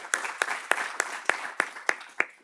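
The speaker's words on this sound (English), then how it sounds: "Can we all give Jake a round of applause for moderating this discussion today?" Evenly spaced claps from a small audience at a regional economic health forum, greeting a discussion moderator; about eight distinct sharp hits in a steady rhythm that thin out and stop.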